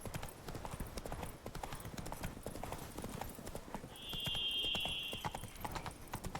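Roach, the horse from The Witcher 3, gallops along a road with a steady, close clip-clop of hooves throughout, a brief whinny-like tone rising midway and faint game ambience underneath.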